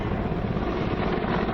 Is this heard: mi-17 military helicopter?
yes